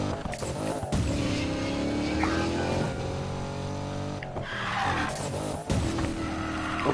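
A Chevrolet Corvette drifting in Need for Speed Payback roars loudly with revving engine tones, squealing tires and skidding that rise and fall as the car whips through turns.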